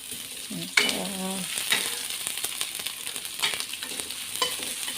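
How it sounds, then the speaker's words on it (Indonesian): Lemongrass and ginger are stir-fried in a pan for Betawi-style pindang bandeng milkfish, a steady close sizzle with occasional scraping stirs and a brief voice early on. "kita cemplungin semua sampai wangi ya, sampai harum semerbak. Oseng-oseng aja dulu, kita tumis-tumis."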